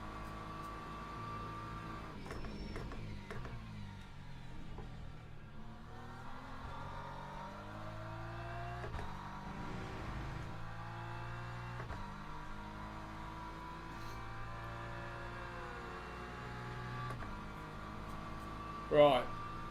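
A BMW M4 race car engine in the Le Mans Ultimate racing game hums and revs steadily, with shifting tones as it accelerates and changes gear. Someone talks quietly over it throughout.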